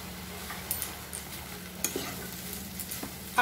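Banana flower and potato filling for mochar chop is mixed in a pan over soft sizzling, with scattered spoon scrapes and taps against the metal at an irregular pace, with no voices.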